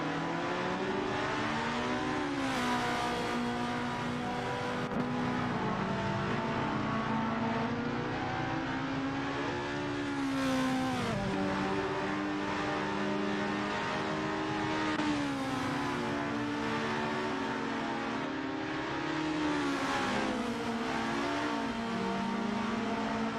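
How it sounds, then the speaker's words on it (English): Race cars in an AI-driven racing video game, several engines droning together while revs climb and drop in repeated sweeps, a continuous moderate-level whine with no speech. "Bot Nox Exodus is on a roll, overtaking 6 cars to snag power."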